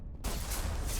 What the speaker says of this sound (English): And that's a missile.